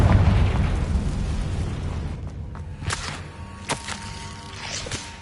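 A Confringo blasting spell going off in Hogwarts Legacy, with a heavy rumbling boom at the start that fades, followed by several sharp crackling bursts and thuds.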